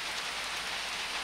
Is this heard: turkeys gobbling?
no